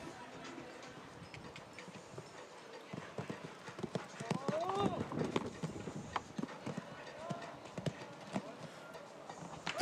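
A show jumping horse canters around an arena at a Grand Prix event, its hoofbeats a faint, rhythmic thudding that continues beneath commentary.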